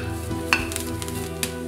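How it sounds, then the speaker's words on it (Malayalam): Grated coconut dry-frying in a pan for a Kerala-style squid curry, giving a steady close sizzle with a few sharp stirring clicks and scrapes against the pan. "അതിലേക്ക് നമ്മൾ ചുരണ്ടി വെച്ചിരിക്കുന്ന തേങ്ങ ആദ്യം ഇട്ട് അല്പം വറക്കാം."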